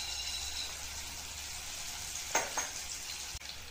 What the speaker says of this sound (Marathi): हे सर्व मसाले आता फ्राय करणार आहे